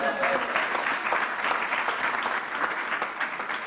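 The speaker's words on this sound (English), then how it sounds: "Let's give him another round of applause." Steady applause from a crowd fills the whole stretch, dense clapping at even loudness with a faint murmur of voices underneath.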